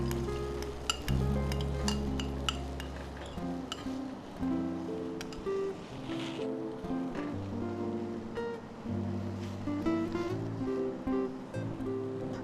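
Liquid at a boil in a pot while a brown sauce is cooked, a steady bubbling sizzle with occasional clinks of utensils, close and continuous throughout.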